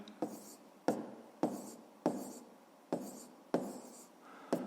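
A pen moves across notebook paper while working out a fifth-grade maths exercise, giving a regular series of short scratchy strokes about every half second, near and quiet, with no talking.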